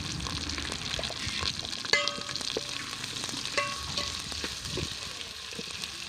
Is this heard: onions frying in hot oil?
yes